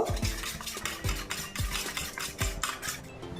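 A spoon stirs cornflour into milk in a cup or bowl, clinking against the sides in a quick rhythmic series of close, bright taps and swishes.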